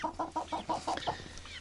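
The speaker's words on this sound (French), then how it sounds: "les 3 grosses poules" Three big hens cluck in a quick series of about seven short, rhythmic calls, close and clear, fading out in the last half second.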